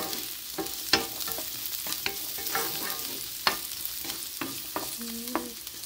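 Garlic sautéing in oil for Filipino tinola gives a soft, steady sizzle broken by repeated scrapes and clinks of a utensil stirring in the pan, close but fairly quiet, with no talk.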